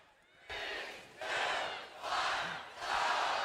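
Spectators at the FIRST California Southern State Championship robotics competition cheer loudly, their roar rising in three or four big swelling waves, each bursting up after a brief lull.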